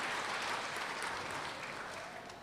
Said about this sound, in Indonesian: Tepuk tangan buat Bapak Pendeta.